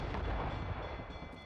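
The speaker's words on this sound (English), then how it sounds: "They're firing a volley!" Rumbling ship cannon volley in Assassin's Creed Rogue, a heavy burst of booming blasts that rolls and fades over a second and a half, with no talking.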